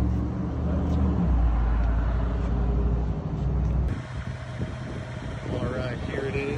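A lifted Honda Element idles with a new catalytic converter fitted, its steady low engine and exhaust rumble moderate rather than loud, with a brief shift in tone partway through.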